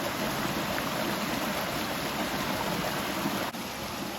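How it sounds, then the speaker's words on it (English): Dense, steady rushing of a creek near a waterfall fills the scene, an even broadband wash of flowing water with no talk over it. "here's the creek"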